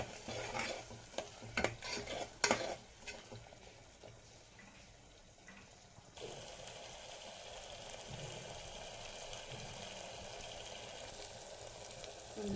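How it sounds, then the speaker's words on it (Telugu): Masala for stuffed brinjal curry sizzles in a pan while a spoon scrapes and stirs in irregular clatters, then the frying settles into a steady, hissing sizzle. "ఈ మసాలాని బాగా ఫ్రై చేసుకోవాలి ఒక 2 నిమిషాలు."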